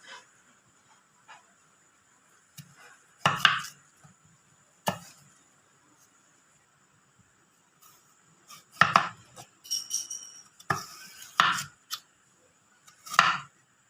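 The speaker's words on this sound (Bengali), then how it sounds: "সব আলুগুলো কাটা হয়ে গেছে।" A knife cuts raw potatoes into round slices on a board, giving sparse, close, sharp chops in small clusters with quiet gaps between them.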